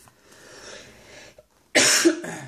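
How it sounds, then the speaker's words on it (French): A sharp, loud cough bursts out, followed by a shorter second cough, after a stretch of quiet background rustling. "Désolé, je vais tousser assez souvent."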